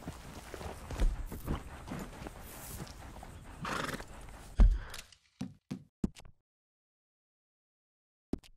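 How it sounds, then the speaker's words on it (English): A horse in the video game Red Dead Redemption neighs loudly near and trots with clip-clopping hooves, then a few sharp isolated hoof knocks follow before falling silent. "That's a good horse."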